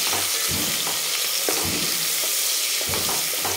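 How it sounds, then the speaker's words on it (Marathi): Sliced onion with a pinch of salt fries in hot oil in a pan over a full gas flame, giving a loud, steady, crackling sizzle. Faint stirring knocks sound every second or so, with no voices. "गॅस फुल ठेवायचा आहे आणि छान एकदम सोनेरी कलर येईपर्यंत आपल्याला तळून घ्यायचा आहे"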